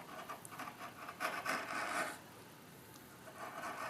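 Tiny micro chisel shaving and scraping thin curls from a piece of wood, a close, soft rasping rub in short strokes with a brief louder burst midway.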